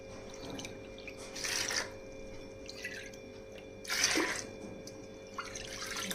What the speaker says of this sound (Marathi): 4 वाट्या पाणी टाकलेलं आहे मी